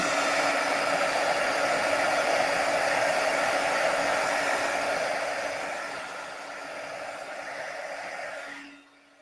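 A heat tool blows hard to dry watercolor on a wooden button, a loud, steady hissing roar that fades slightly and then cuts off abruptly near the end.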